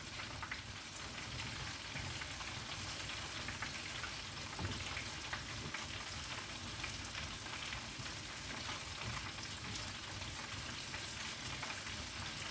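Food crackling in a deep fryer, a dense continuous hiss of bubbling oil that stays even and steady throughout, at moderate distance with no talk.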